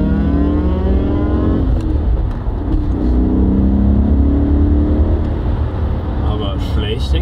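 A BMW E39 M5's engine pulls hard at full throttle, its loud, close roar climbing steadily in pitch as the revs rise, with a brief shift-like dip before climbing again.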